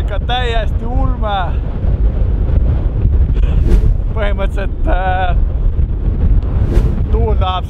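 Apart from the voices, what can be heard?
strong wind on an island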